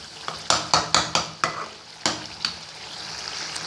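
Garlic and tomatoes fry in a home kitchen pan for roasted eggplant bharta, with a quick series of sharp spoon-against-pan scrapes and clinks over a soft, steady sizzle, close up and with no one talking.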